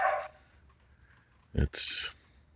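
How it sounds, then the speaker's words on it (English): A single dog's bark sounds briefly from nearby inside a shop, followed by a sharp higher yelp, after a short stretch of faint voice. "dogs are in the shop barking"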